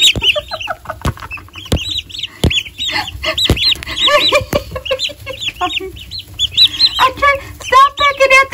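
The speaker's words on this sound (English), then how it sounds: "Stop pecking at the camera, silly birds." Turkeys clucking and chirping up close while pecking at a camera, a busy run of short calls and repeated sharp taps, loud and near throughout.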